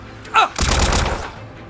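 Gunfire from Trails through Daybreak II, a loud, close burst of rapid shots lasting about half a second, preceded by a brief vocal exclamation and trailing into quiet.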